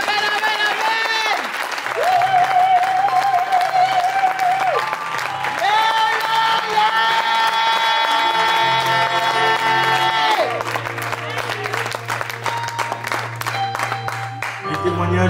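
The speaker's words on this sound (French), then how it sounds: "on peut comme l'applaudir encore" Applause and cheering from a congregation at a memorial thanksgiving service, sustained under loud sung or organ-like music with held tones, with voices mixed in throughout.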